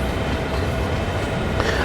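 Train yard switching in Train Sim World 3, a steady rumbling rail-car clatter with low engine drone, continuous and fairly loud throughout, with a faint squeal near the end.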